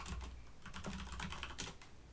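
Rapid, light clicking of computer keyboard keys being typed on, a steady close patter of individual keystrokes with no voices over it.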